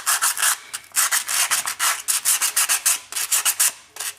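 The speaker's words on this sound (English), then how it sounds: "take your finer sandpapers, and this is 180. As you can see, it's the same 3M product" Hand sanding of sheet metal with 180-grit 3M sandpaper makes loud, close, rhythmic scraping strokes, about four per second in short bursts with brief gaps.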